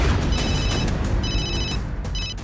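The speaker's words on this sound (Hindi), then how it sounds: "फोन पर एक कॉल आ रही है" A phone rings with an incoming call, three bursts of a bright electronic trill of uneven length over a loud, dense background din.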